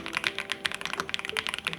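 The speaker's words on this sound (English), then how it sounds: "Typing sound is loud, poppy, but leans toward the deeper side." Rapid clacky keystrokes on a foamed plastic pre-built keyboard, loud and poppy with a deeper tone, in a steady fast typing rhythm with no talking.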